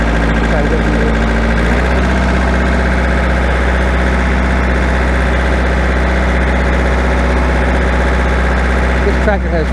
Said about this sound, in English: This tractor has four-wheel drive.